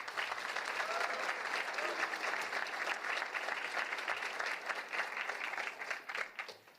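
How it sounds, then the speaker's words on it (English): An audience at a college of optometry white coat ceremony claps in sustained, dense applause for several seconds, then tapers off toward the end. "Let's all give them a round of applause."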